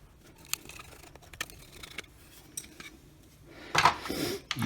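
Motor screws are removed from a Milwaukee M18 wet/dry vacuum under repair. Sparse, sharp metallic clicks and taps are heard close by, then a louder burst of rattling and scraping near the end.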